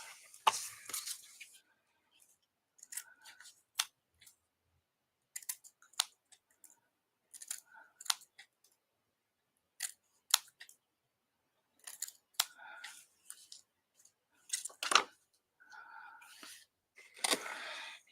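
Scissors cutting out small pieces, a series of crisp close snips in short clusters separated by quiet gaps, with a few soft murmured or whispered words in between.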